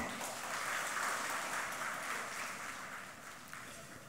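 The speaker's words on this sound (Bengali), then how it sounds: "আমরা সবাই হাত উঠিয়ে সবার জন্য করতালি দেই।" An audience at a Dhaka Boat Club gathering applauds, a dense, fairly faint wash of clapping that stays steady for a few seconds and fades slightly at the end.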